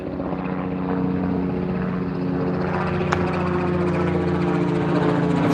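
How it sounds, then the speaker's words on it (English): Helicopters pass overhead near a resort walkway with dug-up sidewalk, a loud, continuous rotor drone with a steady low throb that holds throughout. "Got some helicopters going overhead."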